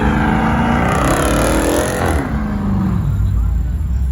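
A car revs hard at a street takeover, its engine note climbing in pitch and then falling away as it sweeps past, loud and close, with onlookers talking over it.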